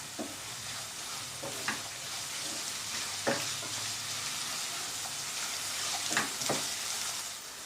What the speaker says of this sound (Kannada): ತರಕಾರಿ ಇದರಲ್ಲಿ ಚೆನ್ನಾಗಿ ಫ್ರೈ ಮಾಡ್ಕೊಳ್ಳೋಣ.